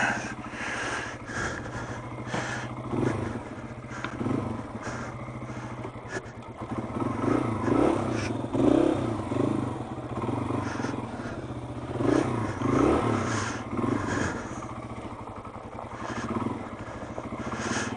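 An old Yamaha TW motorcycle runs on ice in cold upstate New York weather, its engine a steady nearby rumble that swells with a few revs and faint clattering over roughly eighteen seconds.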